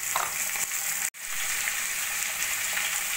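Diced potato and pumpkin fry in a pan for a steady, close broadband sizzle that drops out for a split second midway, then carries on evenly with no talking.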